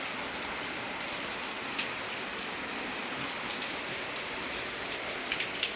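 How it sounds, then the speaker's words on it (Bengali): Heavy rain pours steadily outside, with the flooded drains overflowing; a dense, even hiss of downpour holds throughout, with a few sharper drip splashes near the end. "বৃষ্টি হচ্ছে মুষলধারে"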